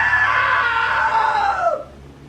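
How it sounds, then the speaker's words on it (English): A long, loud scream from a character in the video game What Remains of Edith Finch, holding steady for well over a second before sliding downward and trailing off into quiet. "Now that was a great scream."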